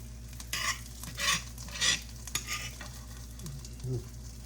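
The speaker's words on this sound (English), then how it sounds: "we're going to slow toast this bread" French bread slowly toasting in plenty of butter in a pan, with soft sizzling and a few louder stirring or scraping bursts from a utensil against the pan, close and fairly quiet, with no talking.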